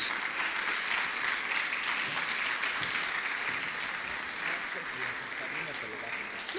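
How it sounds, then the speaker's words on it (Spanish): A church congregation applauding during a service, sustained even clapping from many people filling the room at a steady level throughout, with faint voices beneath. "quiero que le demos un aplauso al Señor por la vida de la pastora Margarita Rodríguez"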